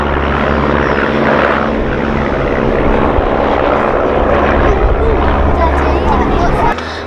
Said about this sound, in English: There the Gemini pulls up and the two messengers go off to our left.